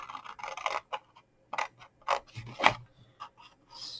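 Scissors cutting a paper gift box along a score mark, giving a series of short, crisp snips and scrapes at an uneven pace, close and fairly quiet.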